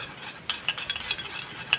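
A spoon stirs a thick homemade face pack mixture in a small bowl, giving quick, soft, close scraping clicks over a few seconds.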